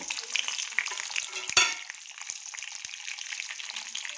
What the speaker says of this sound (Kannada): ಸಾಸಿವೆ ಕಡಲೆಬೇಳೆ ಉದ್ದಿನಬೇಳೆ ಜೀರಿಗೆ ಮೆಂತ್ಯ ಒಂದು ಹಸಿಮೆಣಸಿನ್ಕಾಯಿ ಕರಿಬೇವಿನ ಸೊಪ್ಪು ಹಾಕಿದ್ದೀನಿ ಇದನ್ನು ಎಣ್ಣೆಗೆ ಹಾಕ್ತೀನಿ